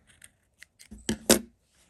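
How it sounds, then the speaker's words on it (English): Scissors snip crochet yarn: a few light metallic clicks, then two sharp, close cuts in quick succession, alone with no talk. "We're going to grab the scissors,"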